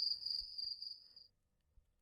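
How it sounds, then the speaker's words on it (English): A single faint, high steady cricket trill rings for about a second, then fades into near silence. "Pete hears an odd chirping noise. What is that? He asks out loud. Those are just the crickets."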